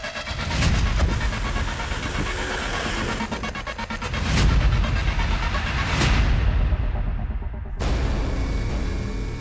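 A vehicle chases a motorbike in a crime drama scene, with a loud, continuous engine roar that surges and whooshes past several times before cutting off abruptly.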